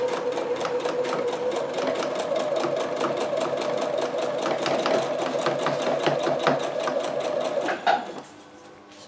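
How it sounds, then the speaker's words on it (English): A sewing machine runs steadily, stitching a straight seam on a jacket collar made from a converted hood. The needle rattle stays loud and even for about eight seconds, then the machine slows and stops. "And then just sew straight along."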